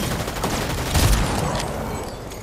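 Rapid gunfire from a weapon in Fortnite: a burst of quick shots close up, peaking around the one-second mark, then fading into a steady scatter of softer pops and rumble over about two and a half seconds.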